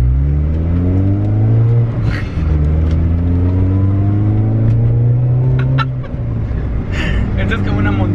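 A turbocharged car with a six-speed gearbox accelerates hard, its engine note climbing through rising sweeps and dropping at each gear change, loud and close from inside the cabin, with brief voices over it.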